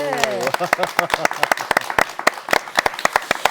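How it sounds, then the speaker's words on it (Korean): A studio audience on a Korean Christian TV talk show applauds in a burst of sharp, close claps that follow a brief bit of speech at the start. "박수 좀 보내주세요"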